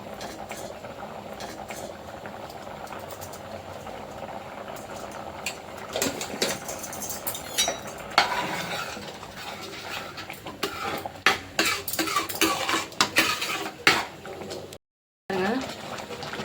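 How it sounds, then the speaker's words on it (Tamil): A pot of pongal with cardamom powder bubbles on the stove as a spoon stirs and scrapes against it, producing irregular clinks and soft bubbling up close, with a brief cut in the middle. "நல்லா கொதிச்சிருச்சு."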